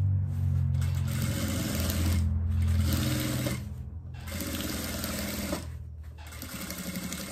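Sewing machine stitching bias binding around the edge of a fabric diaper holder piece, a steady close-up motor whir in long runs with brief pauses between seams.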